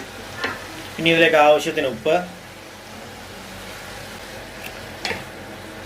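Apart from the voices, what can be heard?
stirring tomatoes frying in a pan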